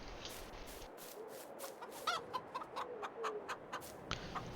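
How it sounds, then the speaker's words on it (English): Chickens cluck on a ranch in the evening, several short close clucks and calls repeating over a steady outdoor background hiss, with no talk. "Chickens are fine."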